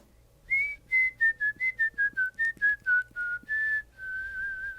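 A person whistles a slow, eerie tune alone, a string of clear sustained notes with short gaps, ending on a long held tone.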